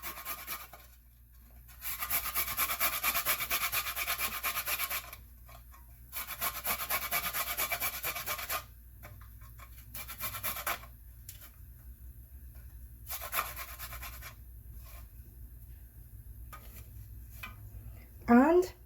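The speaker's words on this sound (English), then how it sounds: "Love to grate my ginger." Raw ginger rubbed against a kitchen grater while making Caribbean curry goat, several bursts of close, scratchy rasping separated by short pauses, with faint background noise in between.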